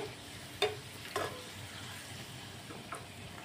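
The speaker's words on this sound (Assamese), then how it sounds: "এইটো পুৰি ভজা হৈ গ'ল" Tricolour poori deep frying in hot oil, a steady soft sizzle with a few sharp stirring clicks and taps, fairly quiet and without voices.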